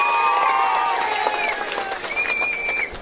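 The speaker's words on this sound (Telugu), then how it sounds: "గట్టిగా చప్పట్లు కూడా అందరూ అభినందించండి." Audience applause at a chief minister's inauguration of a solar pilot project in Kuppam: a steady, loud wash of clapping that eases slightly toward the end, with high ringing whistle-like tones drifting over it.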